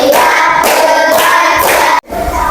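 A classroom of students performs a clapping rhythm ice-breaker. Loud group clapping and chanted voices come in pulsing phrases, then cut off abruptly before a brief resumption.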